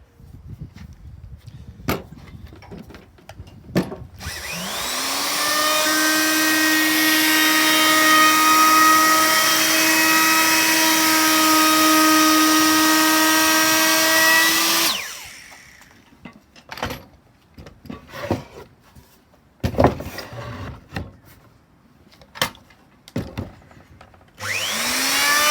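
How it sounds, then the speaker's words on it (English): Wood router trimming the edges of an oak chopping board: a loud, steady whine runs for about eleven seconds after a short spin-up, then winds down, with scattered knocks and handling clatter before and after. "Run the router all the way around the edges, and I've just done down the sides as well, just to take that sharp edge off"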